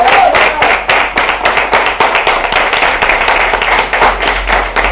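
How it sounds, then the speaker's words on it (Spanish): A church congregation claps loudly in a fast, rhythmic pattern, many hands striking together in steady beats that carry through the whole stretch, with a low rumble underneath. "Dale un aplauso al Señor."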